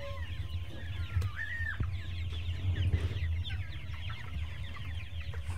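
Chickens on a poultry farm hit by Ranikhet disease cluck and chatter continuously, with several brief higher calls over a steady low mechanical hum, close and moderately loud.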